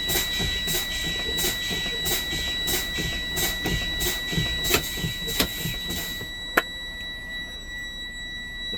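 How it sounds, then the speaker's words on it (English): An armored truck's air brake pedal is pumped repeatedly during an in-cab inspection, producing a series of regular air hisses and releases over a steady idling engine and a high alarm tone, with a sharp click near the end. "I will continue to fan my service brake until my buttons pop out."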